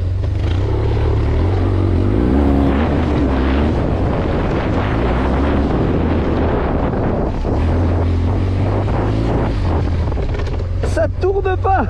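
A BMW HP2 motorcycle engine runs loud and steady, its low drone continuous throughout with heavy wind buffeting the microphone and a few sharper mechanical clicks near the end.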